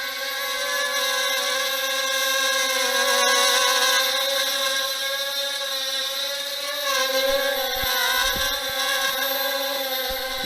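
A Hubsan X-4 quadcopter drone fitted with JJRC 1000A propellers hovers nearby, giving a steady high-pitched whine and buzz that wavers slightly as the throttle shifts, with a few faint knocks near the end.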